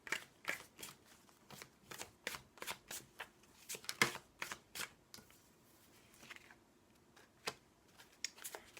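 Tarot cards being shuffled close up, a series of crisp riffling snaps and flicks in irregular bursts, fairly quiet with short pauses between.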